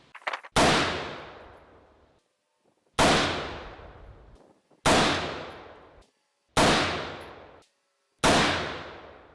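Five single rifle shots fired at a target, each a loud sharp crack with a long decaying echo, spaced roughly every one and a half to two seconds with quiet gaps between, no speech.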